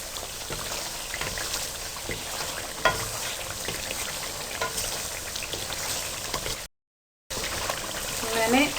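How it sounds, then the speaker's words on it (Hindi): Mutton trotters fry in a pan and are splashed now and then with a little water, making a steady close sizzle with bubbling and small spatters throughout. A short gap of silence falls near the end. "आपने बार बार इसको थोड़े से पानी का छींटा देना होगा और इसको अच्छी तरह से भून लेना है।"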